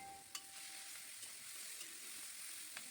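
Onions fry in oil with panch phoron, a bay leaf and slit green chillies for a fish-head curry with potato, brinjal and bitter gourd. A faint, steady sizzle runs throughout, with a few soft clicks as they are stirred.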